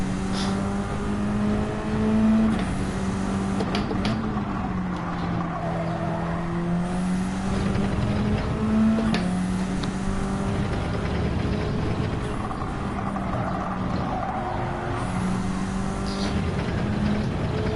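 Car driven in Gran Turismo 7, a steady engine drone rising and falling with throttle and gear shifts and occasional tire scrub, loud and continuous with no speech.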